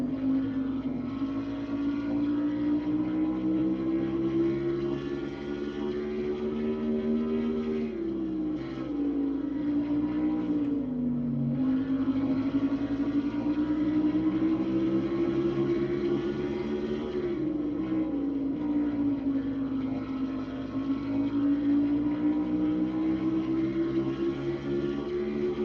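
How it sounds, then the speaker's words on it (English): Race car in a sim racing game at Richmond, heard from a rear bumper camera: a steady, loud engine drone with pitch rising and falling through shifts and corners, continuous and alone. "That's what it sounds like from the back bumper of the Charles Sanford car right there"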